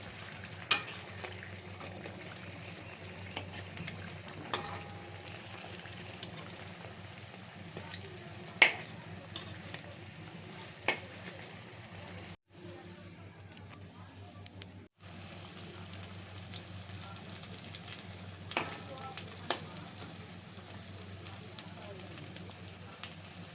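Potato chops deep-fry in oil at home with a low, steady bubbling sizzle and scattered sharp pops and crackles, with a short quieter gap in the middle.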